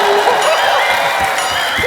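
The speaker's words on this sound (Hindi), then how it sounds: "एक बार फरहान और अर्जुन के लिए जोरदार तालियां।" A television comedy studio audience applauds and cheers loudly for arriving guests, with dense clapping, whoops and shouts forming a bright, continuous crowd roar.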